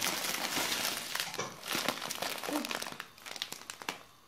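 A plastic bag holding a food parcel for pensioners crinkles and rustles close by as it is opened and handled, in uneven bursts that trail off into scattered crackles.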